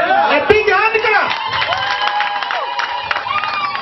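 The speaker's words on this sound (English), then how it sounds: "A big hand clap!" Wedding guests applaud and cheer in a lively crowd, with whoops and chatter riding over a steady wash of clapping that carries on throughout.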